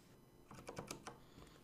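A command typed on a computer keyboard during web app development: a short burst of about five quick, soft key clicks, close and fairly quiet, alone.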